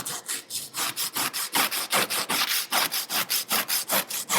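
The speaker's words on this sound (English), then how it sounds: "I'm going to sand the whole part up" A metal fork brace from a Honda Rebel 250 motorcycle is sanded by hand with quick, even back-and-forth strokes, giving a close, loud, rhythmic scratching rasp at about four strokes per second.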